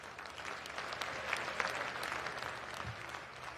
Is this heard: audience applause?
yes